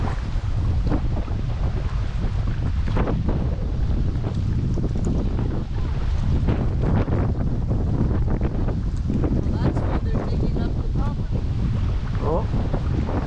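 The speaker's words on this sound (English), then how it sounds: "One heck of a wind." Strong wind buffets the microphone in a steady roar while canoeing down a river, with water and paddling noise underneath and brief talk in the middle.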